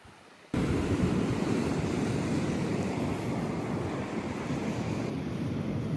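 Strong sea waves roll and break on a wild Romanian shore in winter, a continuous loud rushing wash mixed with wind buffeting the microphone. The surf starts abruptly after a brief quiet moment and continues unbroken, with no voices.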